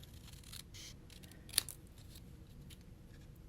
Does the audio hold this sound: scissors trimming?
yes